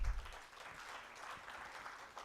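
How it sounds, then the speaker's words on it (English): Audience clapping for a presenter named Mildred at a live-streamed session, a steady patter of hands heard from a distance, fairly faint and continuous throughout. "Let's clap for Mildred."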